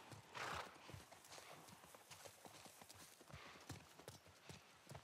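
Horse hooves clip-clop steadily through The Last of Us game on PS5, with a brief whinny near the start, moderately close under faint ambient background.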